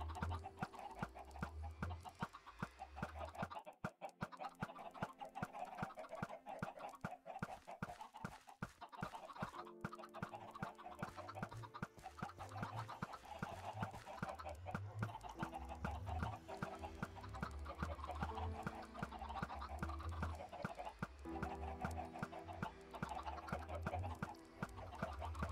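Many chickens in Minecraft cluck steadily and repeatedly throughout, a busy overlapping chorus of short rhythmic calls at moderate loudness with no talking.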